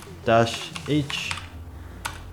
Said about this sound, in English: Then you want to type in power cfg-h